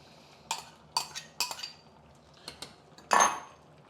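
Pre-cooked lentils and barley being added to a simmering pot of vegetables, heard as a few sharp metallic clinks of a spoon against the pot followed by a brief wet splattering slide, close and without speech.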